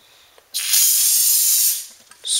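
Brake parts cleaner bursts from an aerosol can around a Ford Focus brake rotor in one loud, sustained hiss lasting about a second, followed by a short second spurt.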